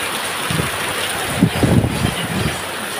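Wind rushes and buffets against the microphone with a steady hiss of rain, gusting louder in the middle before easing back.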